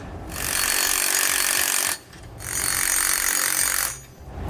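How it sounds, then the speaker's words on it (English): A power tool drives a 9/16 socket to tighten nuts on a saddle clamp under a 2017 Newmar Canyon Star motorhome, in two loud, steady bursts of whirring, each about two seconds, with a short pause between. "with the 9/16 socket, we're going to tighten up these nuts on the bottom"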